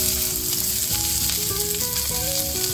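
Onions sizzle steadily in hot oil with whole red chilies and spices, a continuous loud frying hiss with faint pan scrapes from stirring, no talk.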